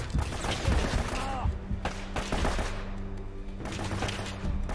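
Gunfire in the video game Uncharted, a burst of shots and heavy thuds at the start, then quieter game ambience with another impact near the end, moderately loud.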